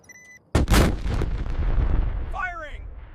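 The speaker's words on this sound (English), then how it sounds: "Schwerer Gustav is ready to fire." Schwerer Gustav, the huge WWII German railway cannon, fires once with a sudden close, deafening blast that rolls into a long rumbling decay, after a brief electronic tone before it.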